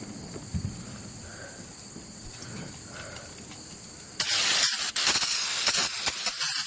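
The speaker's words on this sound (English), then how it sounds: "Just spray a small area" A sharp aerosol brake cleaner spray hisses in from silence onto an RV roof, a few bursts back to back, loud and close, after a quiet stretch of faint background noise.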